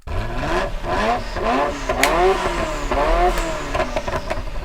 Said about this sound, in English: Let's go on ahead and see what it sounds like.